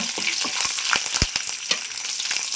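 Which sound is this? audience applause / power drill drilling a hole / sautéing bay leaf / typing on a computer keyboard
sautéing bay leaf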